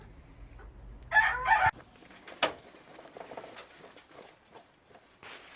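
An Ixworth rooster crows once, loud and close, in an outdoor smallholding setting, followed by a sharp knock and soft scattered rustling and pecking sounds.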